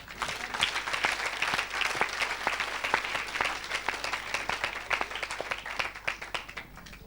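A church congregation applauds together, a dense steady wash of many hands clapping that holds for several seconds before easing slightly at the end.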